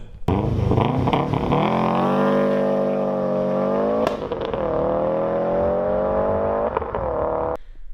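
A blue Subaru STI launches hard, its engine roaring loud and sustained at high revs for several seconds, with a brief dip and recovery midway before cutting off abruptly.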